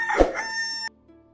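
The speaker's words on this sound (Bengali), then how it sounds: "পাখির ডাক আর মোরগের ডাকে ঘুম ভাঙে" A rooster crows in a cartoon village scene, a short loud call that cuts off abruptly, followed by near silence.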